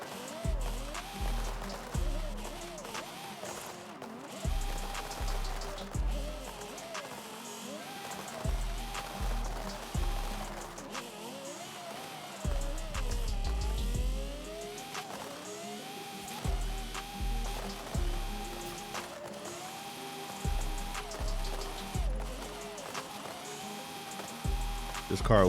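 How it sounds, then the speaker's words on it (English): A Lexus LC500 with a swapped-in V10 engine, drifting downhill from a mountaintop in Forza Horizon 5, revs and bounces off the limiter in repeated throttle bursts. A voice talks over it throughout. "This car with this V10 sounds crazy"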